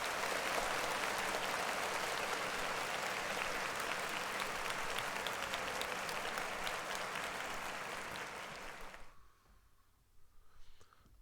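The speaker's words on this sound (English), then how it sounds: "Clap it up for him." Dense, sustained applause from a group of people, loud and even for about eight seconds before fading out and ending in near quiet.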